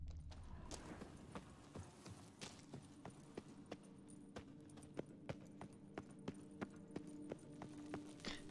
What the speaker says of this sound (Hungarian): Meg egy ló.